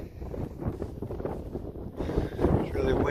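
Strong wind gusting across an open pasture where a border collie herds goats, buffeting the microphone with a rough, uneven roar that swells and eases, and a person talks over it.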